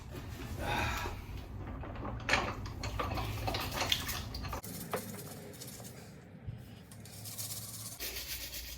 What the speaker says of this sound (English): pull out what I need to, scrub it with the wire brush, and give it a proper good clean